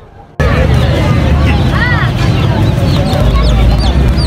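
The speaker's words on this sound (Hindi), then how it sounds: "यहाँ पे आए जो ये मुर्गियों की मार्केट है, इसमें मुर्गे भी हैं" Chickens and roosters cluck and call in a busy outdoor bird market in Karachi, under constant crowd babble and traffic noise. The bird calls are scattered and mid-distance, blending into the steady din.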